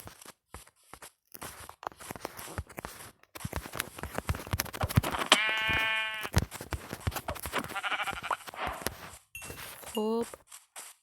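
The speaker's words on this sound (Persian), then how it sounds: "این بالا یه گوسفند." A Minecraft sheep bleats a couple of times in short, wavering electronic cries, set among clicks, footsteps and other game noises while a person talks over the gameplay.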